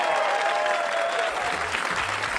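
A comedy club audience at a live stand-up show bursts into steady, loud applause and cheering, a dense wash of clapping that carries on for the whole stretch with no pauses.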